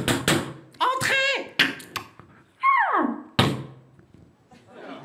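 Someone vocally imitates a door: a creaky rising-and-falling groan followed by a sharp thump, with a few tapping knocks around it.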